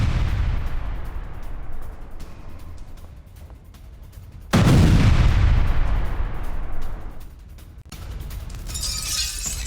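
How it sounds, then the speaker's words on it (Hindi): A T-80 tank fires on a Ukrainian position in war footage: a loud, heavy blast hits about halfway through and rumbles on over a noisy background, with a softer crackling sound near the end. "T-80 टैंक से यूक्रेनी फायरिंग पॉइंट पर हमला हुआ।"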